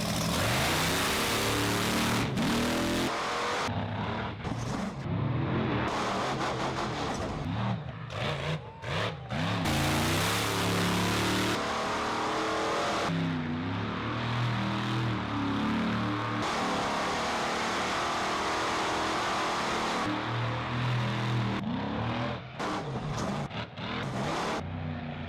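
A monster truck engine roars and revs loud and close as the vehicle drives and swings into a sudden turn, the pitch rising and falling steadily throughout.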